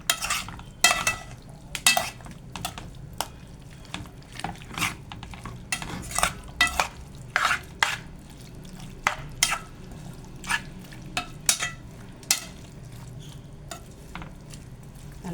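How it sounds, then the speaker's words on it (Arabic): A spoon stirring a chicken shawarma mixture in a pan with a soft sizzle underneath, giving irregular scraping clinks against the pan spread over about fifteen seconds, close and unaccompanied by talk. "هنبدأ نقلب كله في بعضه"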